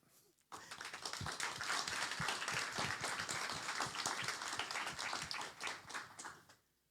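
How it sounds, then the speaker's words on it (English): Audience applause at a final presentation on inclusive living, starting abruptly and building into dense, lively clapping from a room of people, holding for several seconds before tapering off. "I'd really just like to start with a round of applause for them to make them feel less nervous"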